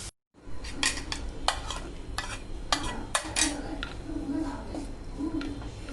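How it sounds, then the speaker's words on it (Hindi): Onion, cabbage and other vegetables cook in a pan over low gas, with repeated utensil clinks and scrapes against the pan over a soft steady cooking hiss, close by, with a voice talking briefly. "इसको हल्की गैस पे मैं अच्छे से पकाऊंगी ताकि कांदा भी भून जाए और जितनी सब्जी है वो भी अच्छे से पक जाए"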